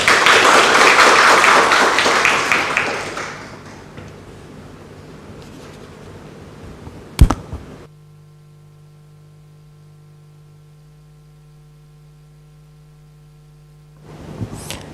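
Applause from a ceremony audience at a signing event between Thailand's National Institute for Emergency Medicine and Harvard Asia, loud and dense at first, then fading out after a few seconds into a quiet room with a low hum and one brief thump.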